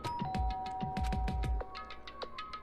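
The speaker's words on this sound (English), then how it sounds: "Byakuya stood in front of her door, not making a sound, and pressed the doorbell." A video-game doorbell rings in Danganronpa, a quick bright chime of several rapid electronic tones followed by a short ringing decay, clear and fairly quiet, with no talking.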